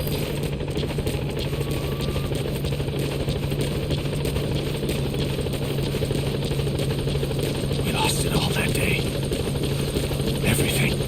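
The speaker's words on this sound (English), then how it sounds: "Support helicopter has arrived." Support helicopter arriving in the Metal Gear Solid V game: a loud, continuous rotor thump and engine drone holds steady throughout, with a brief voice and some mechanical clatter layered over it near the end.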